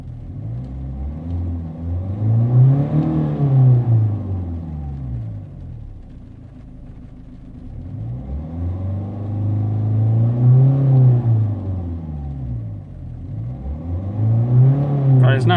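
A Volvo S40 1.6 diesel with low fuel pressure and limp mode revs up three times in the engine bay, each climb rising and falling smoothly in pitch, loud and close, with no talk over it.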